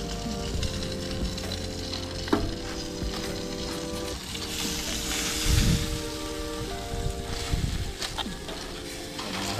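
Bird meat frying in a pan over a fire for dinner, a dense continuous sizzle with occasional pops and crackles, fairly close and steady throughout.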